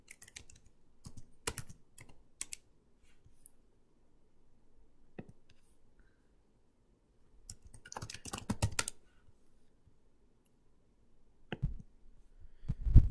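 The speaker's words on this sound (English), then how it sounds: "You can actually type into here any date you want." Keys clatter on a computer keyboard as a date is typed into a Microsoft Project field, quick clusters of close, crisp taps separated by quiet pauses, with a busier flurry near the end.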